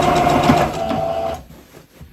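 A sewing machine stitches gathers in fabric with a steady, rapid whirring and needle clatter, close and fairly loud, then stops abruptly, leaving quieter room sound.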